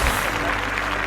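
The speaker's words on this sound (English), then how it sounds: "This athlete will take the applause." Steady applause from a crowd at a London 2012 Olympics event, a dense wash of clapping that holds at an even level throughout the short moment.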